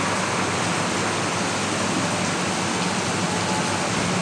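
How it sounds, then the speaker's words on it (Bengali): Heavy rain pours steadily in a dense, unbroken hiss, close and loud throughout, with no voices. "আর আজকে দেখেন বৃষ্টি হইতেই আছে, অনেক বৃষ্টি পড়তেছে। এই যে ভালো বৃষ্টি হইতেছে।"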